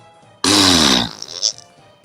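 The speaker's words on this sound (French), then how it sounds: "on a le droit de péter, on te juge pas" A loud, abrupt fart bursts out for about half a second, followed by faint fading noise and a brief squeak.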